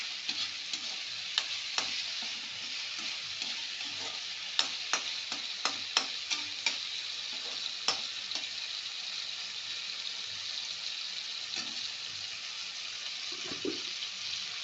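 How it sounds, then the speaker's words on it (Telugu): Macaroni stirred steadily in a pan as it cooks, with a constant hissing sizzle and bubbling under repeated scraping and clicking strokes of the spoon, close and fairly loud with no voices. "బాగా కలుపుతూ ఉండాలండి, ఇది మంచిగా ఉడికేంత వరకు."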